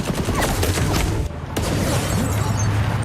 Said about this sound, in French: Quand les coups de feu retentissent